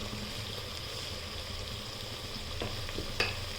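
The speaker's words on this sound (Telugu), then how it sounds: "పసుపు, ధనియాల పొడి, కారం పొడి వేసి రోస్ట్ చేసుకుందాం" Turmeric, coriander powder and chili powder roast in a hot pan, giving a quiet, steady sizzle with light stirring scrapes and one sharper clink near the end, and no talking.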